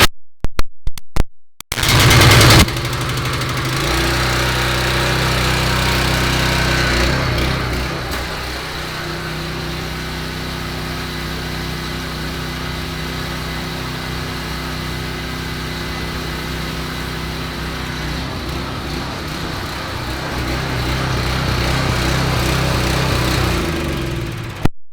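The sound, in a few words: gas pressure washer engine running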